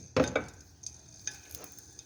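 Garlic cloves dropped into hot oil in a pan for pea soup hiss and sizzle in a few sharp bursts, with light stirring scrapes between them, close and fairly quiet.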